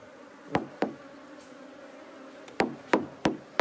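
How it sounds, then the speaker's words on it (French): Bees and wasps buzz faintly around a large nest, a soft insect hum broken by several sharp knocking taps spread irregularly through the moment. "Ah, il y a des abeilles, il y a des guêpes"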